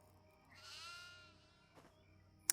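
A goat in the video game Devour VR lets out a single quavering bleat, faint and short, followed by a few small knocks and a sharp click at the end.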